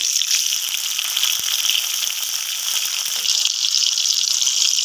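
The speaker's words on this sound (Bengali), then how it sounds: "এবারে দিয়ে দেবো টমেটো কোচানো" Chopped tomato dropped into hot oil with bay leaf, cumin seeds and chilli, hissing in a steady, loud sizzle that holds for the whole stretch with no talk.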